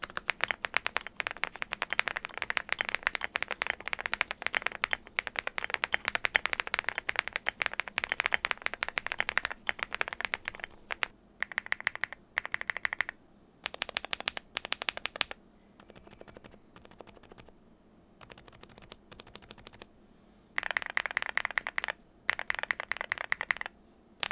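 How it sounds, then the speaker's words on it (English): Fast typing on a Zoom75 mechanical keyboard fitted with Marandi switches, a dense, close run of clacky keystrokes with short pauses and bursts toward the end, no talk. "Here's a quick typing test with the Marandi switches, followed by a quick comparison with the other 3 switches."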